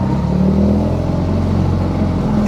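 A Fiat 126p "Maluch" engine drones loudly and close while the small car drives, a rough, buzzy rumble revving steadily with a slight clattery edge.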